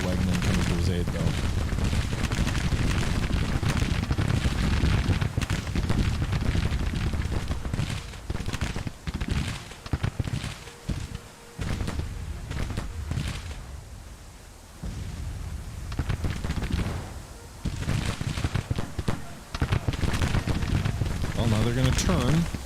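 Dense, continuous musket and artillery fire from a Civil War battle in the Grand Tactician strategy game, a loud rolling barrage of overlapping shots with brief lulls, running throughout.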